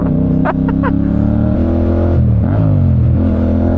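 A Honda CB650R with E-Clutch and CP2 engine accelerates steadily while being ridden, its engine note loud and close, rising through the gears with a short dip at a shift.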